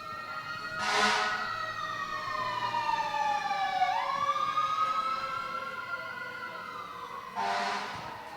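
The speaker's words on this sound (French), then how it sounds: "On va laisser passer les sirènes." Emergency vehicle sirens pass by, a loud wailing tone that rises and falls with a pitch drop as it goes past, followed by bursts of air horn at the start and end, heard outdoors at an evening event.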